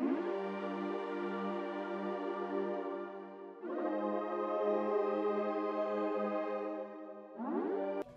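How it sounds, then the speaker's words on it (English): Liquid Square synth pad playing three sustained chords, each a held, buzzy square-wave tone with a smooth, watery shimmer, the last one cut off short; loud and alone. "And the last pad is a Liquid Square, which is a much more unique pad, sounds like this."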